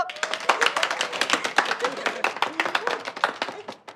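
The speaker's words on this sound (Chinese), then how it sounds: "鼓掌！" Office colleagues clapping in a group, a quick irregular burst of sharp close hand claps that continues steadily and fades slightly toward the end, with a voice briefly audible underneath.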